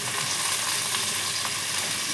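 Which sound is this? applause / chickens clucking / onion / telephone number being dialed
onion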